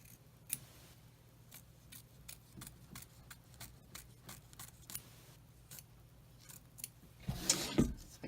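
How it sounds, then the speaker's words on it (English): Scissors trim fabric around an in-the-hoop embroidered mug rug design, producing a steady series of crisp, close snips about every half second. A louder rustling burst follows near the end, with no speech. "we're going to trim around this back edge or the back side of the design, those lines that we just stitched"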